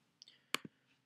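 A single mouse click on a player name in an admin website, a sharp close double tick standing alone in a quiet room.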